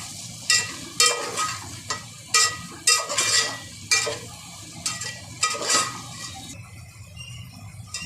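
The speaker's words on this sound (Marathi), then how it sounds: "लाल तिखट, आणि सांबार मसाला. याला चांगलं परतून घेते." Red chilli powder and sambar masala are sautéed in a pan, with a spatula scraping in about ten rhythmic strokes over a soft background sizzle.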